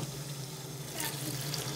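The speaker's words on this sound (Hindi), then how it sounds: "अब मैं इसमें वो पानी डालूंगी जो मैंने चनों का पानी था" Water from boiled white chickpeas poured into a pot of fried chickpeas and spices for chana pulao, a steady continuous pouring rush at moderate level with a faint low hum beneath.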